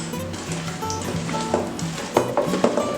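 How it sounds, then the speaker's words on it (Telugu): Mango pieces for Telugu avakaya pickle being stirred and tossed in oil, giving a steady wet mixing and sloshing sound with a few sharper clinks of spoon against the pot toward the end. "ఇది బాగా నూనె బాగా కలిపి పెట్టుకోవాలండి"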